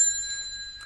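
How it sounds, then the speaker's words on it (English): A small handbell rung to open a bar, a single clear, bright ring with shimmering overtones that hangs and fades over about a second, alone. "The bell."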